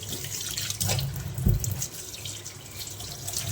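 Tap water runs into a steel sink as it is washed, a steady close splashing stream with brief louder gushes and drips, no voices.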